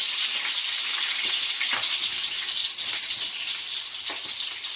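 Dried red chilies and green chilies fry in hot oil in a pan, giving a loud, continuous sizzle with occasional soft stirring clinks and no voices.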